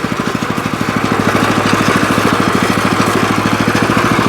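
A small walk-behind tractor (motoblock) runs steadily in first gear with a rapid, even engine chug, loud and close throughout without pause.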